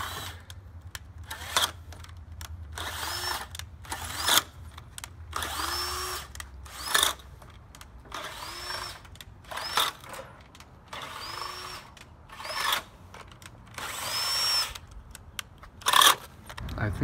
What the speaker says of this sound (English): This one's drilled its last hole, or at least for today.